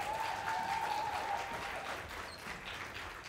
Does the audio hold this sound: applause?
yes